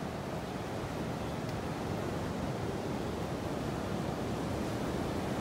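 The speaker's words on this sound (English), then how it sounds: "Lots of waves out there." Rough surf pounds a beach in North Naples, Florida on a rainy morning, a dense, continuous roar of breaking waves mixed with wind, steady and enveloping with no voices.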